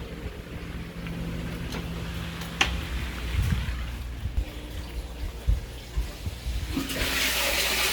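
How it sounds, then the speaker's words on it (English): Fresh water is pushed out through a hose, giving a continuous low rushing flow with scattered knocks and splashes that swells into a louder hiss near the end. "See right here, it's pushing out fresh water."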